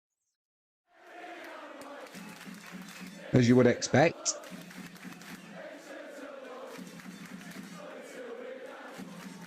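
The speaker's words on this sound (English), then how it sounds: "Fantastic crowd, by the way." A rugby league stadium crowd at a Super League match between Wigan and Leigh roars as a steady broadcast din with a couple of louder bursts, and a commentator talks over it.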